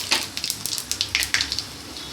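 Two dried chillies and five-spice seeds sizzle and crackle in hot mustard oil in a wok, with quick irregular pops and spits in a steady stream.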